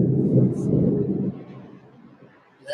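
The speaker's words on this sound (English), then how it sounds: "that thunder is shaking the building." Indoors, heavy thunder rumbles loud and low, shaking the building, then fades into a quieter tail before a brief sharp sound near the end.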